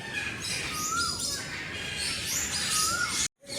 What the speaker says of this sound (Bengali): প্রচুর আওয়াজ এখানে পাখিদের, কিচির মিচির করেই চলেছে।